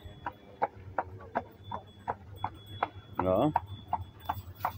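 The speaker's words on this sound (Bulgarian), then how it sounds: "Решихме да ползваме тази туристическа атракция тук." Hooves of a carriage horse clip-clop in a steady, even rhythm close by during a tourist carriage ride, with a low engine-like hum beneath and a brief burst of speech partway through.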